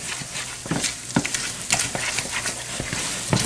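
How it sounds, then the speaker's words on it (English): A spoon scrapes and stirs through a thick coconut raisin fudge mixture with peanuts in a hot pan, giving soft irregular scrapes and faint sizzling, close and continuous, with no voices. "so we just have to continue stirring"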